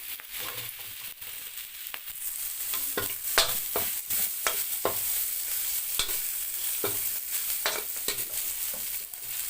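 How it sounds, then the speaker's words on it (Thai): Chili and garlic hiss loudly in a wok while a metal spatula knocks and scrapes in quick, irregular strokes, stir-frying for Thai basil chicken. "ผัดให้หอมทั้งพริกแล้วก็กระเทียมนะคะ"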